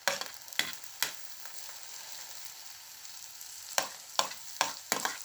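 Onions fry in a pan after potatoes, giving a continuous close sizzle broken by sharp crackling pops and clinks of stirring near the start and again toward the end.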